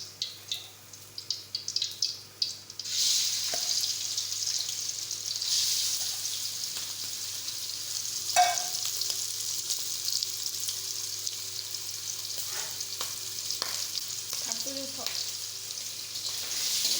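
Prawn heads fry in a hot kadai for an Odia-style prawn masala, a steady close sizzle hissing throughout, with a few clattering stirs near the start and no voices.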